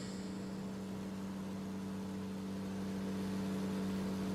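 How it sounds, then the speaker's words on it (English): A vehicle engine rumbles as a sound effect in a comic dub, a steady low droning hum with a constant tone, moderately quiet and unbroken, with no voices over it. "all I had to keep me company were the sounds of wheels turning, engines rumbling"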